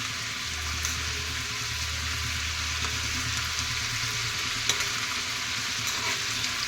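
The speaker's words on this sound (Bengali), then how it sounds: "গরম জল ঢেলে দিলাম। টকবক করবে" Hot water poured into a cooking pot hisses and bubbles in a loud, steady, close wash of sizzling noise that continues throughout, with no voices.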